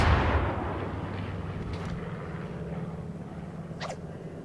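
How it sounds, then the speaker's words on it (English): A British heavy cruiser's gun salvo in World of Warships lands as a loud, booming blast at the start, then fades into a long rumbling decay, with a faint high whistle-like effect near the end. "devastating salvo citadel hit on Irian"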